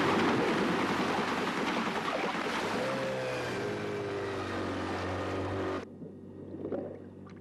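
A motorboat engine drones close by on open water near a baby otter, its low tone shifting in pitch as it runs loud over splashing water, then cutting off abruptly, leaving quiet lapping water.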